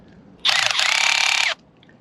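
A Milwaukee drill with a clutch is run for about a second: a loud, steady buzzing burst with a faint ripple, starting and stopping abruptly, alone, with quiet before and after.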